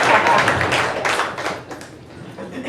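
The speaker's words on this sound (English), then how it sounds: "Y'all give her a round of applause." A group applauds briefly, a burst of close, loud clapping that fades over a couple of seconds.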